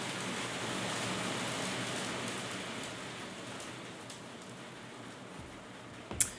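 Steady patter of hail striking a window outside, a dense rain-like hiss that slowly eases, ending with a sharper close knock or tap.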